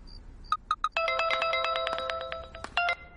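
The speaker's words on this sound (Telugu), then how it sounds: "నాన్నకు ఫోన్ వచ్చిందిరా" A mobile phone ringtone plays: a few short electronic pips followed by a bright, rapid melodic tune, fairly clear and alone with no talking.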